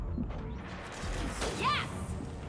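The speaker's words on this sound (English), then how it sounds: "Firing concussive shot." A concussive shot fires in the Mass Effect video game: a short, sharp burst with a bright chirping tail, set against steady battle noise and game sounds.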